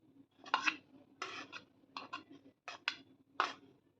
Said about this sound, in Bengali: ভালো করে সবকিছুর সঙ্গে মিক্স করে নেব।